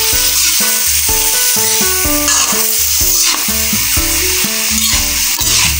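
Chicken pieces with ginger, onion and garlic sauté for tinola, giving a steady, continuous sizzle throughout with stirring. Background music with distinct melodic notes plays over it.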